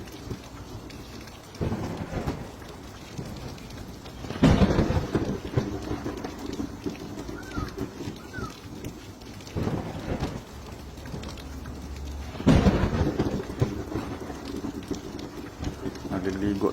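Heavy rain pours steadily outdoors while a man bathes in it, with loud cracks and rumbles of thunder breaking in twice and voices talking under the downpour.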